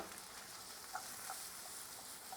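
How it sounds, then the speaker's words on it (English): Onion and peppers frying together in a pan for an omelette, a steady soft hiss and crackle of sizzling that holds at an even level throughout, quiet and with no voices. "I'm going to add some onion"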